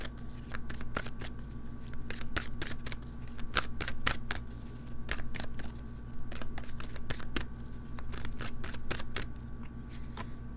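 Enchanted Map Oracle cards shuffled by hand, a rapid series of crisp riffling flutters and snaps repeating in bursts over a quiet background hum, close up and without speech.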